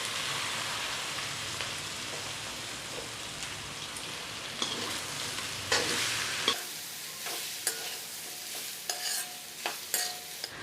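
Raw banana stir-fry with mustard seeds and onion sizzling steadily in a pan, then quieter frying broken by sharp, repeated scrapes and clinks of stirring, close up and without talk.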